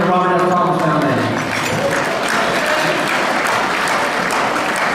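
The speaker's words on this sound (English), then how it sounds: "I want you all to give yourselves a huge round of applause for supporting the Robert F. Thomas Foundation" A crowd at a charity fundraiser gala claps loudly and continuously, a thick wash of applause that starts under a lingering voice and then carries on alone.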